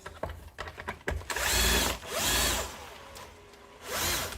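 A cordless electric screwdriver drives nuts onto bolts while a Robo-Plus pool cleaner's drive belt and track are being replaced, giving several close, loud whirring bursts with clicks of handling between them.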